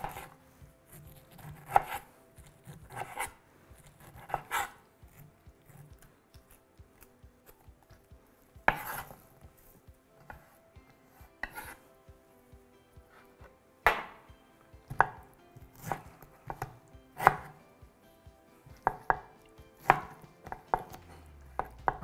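A knife slices through a small pineapple on a cutting board, sharp chopping knocks arriving in uneven clusters and pauses, close and fairly quiet with no speech.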